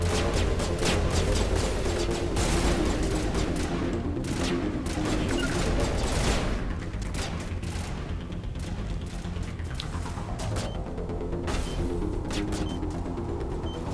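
Gunfire in Mass Effect: Legendary Edition, dense rapid bursts of shots over a loud, continuous combat din, easing slightly midway and then carrying on with scattered sharp reports, no talking heard.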